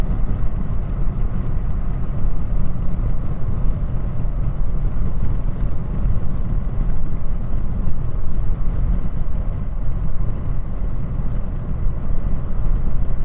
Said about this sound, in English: Lots of turbo noise too.